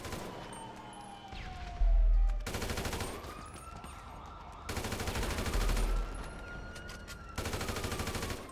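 AK rifle fire in GTA 5 Online, bursts of rapid gunshots in blocks alternating with quieter stretches while a wailing police siren rises and falls in the background.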